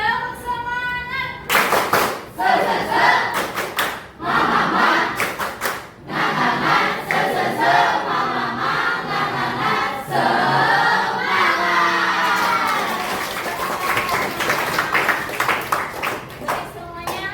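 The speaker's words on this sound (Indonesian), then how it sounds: "kita tepuk semangat lagi" A classroom group of students claps a rhythmic spirit clap, repeated bursts of sharp hand claps in set patterns, mixed with crowd voices and shouts through most of the stretch.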